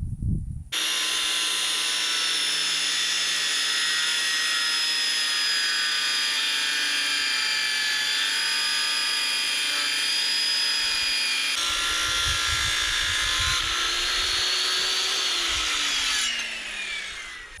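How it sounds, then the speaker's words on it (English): A power tool, a skill saw or planer, cuts a log top plate for a dovetail log cabin build, a steady whining motor drone held for about sixteen seconds before slowing, alone and fairly close. "I'll just take my skill saw and just cut along this line on the inside face and the outside"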